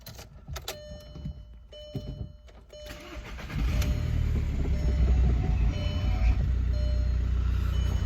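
An old car's engine, fitted with used parts, starts up after some quiet clicks and shuffling, then settles into a steady, smooth idle close by with a low rumble.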